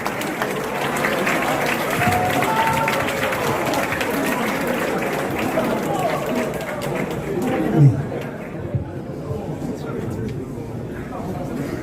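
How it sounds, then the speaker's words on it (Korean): A high-school auditorium audience applauds to welcome a guest lecturer at a cyberbullying-prevention talk, dense sustained clapping with crowd noise and some voices mixed in, easing off near the end. "큰 박수로 맞이해주시죠."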